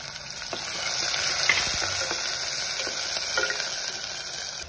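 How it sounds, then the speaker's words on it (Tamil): Shallots sauteing in a hot pan, a steady bright sizzle with occasional stirring scrapes, close and fairly loud with no talk. "நல்லா இப்போ வதக்கிக்குவேன்."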